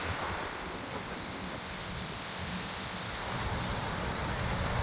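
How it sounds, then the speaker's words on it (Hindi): Steady wind rushes across a mountaintop hill station near a temple, a broad continuous blowing noise buffeting the microphone with no voices. "अच्छी हवा चल रही है।"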